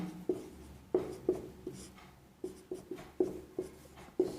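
Chalk or a pen writes out a math solution on a board, making a string of sharp taps and short scratching strokes in an uneven rhythm, close and clear with no talk.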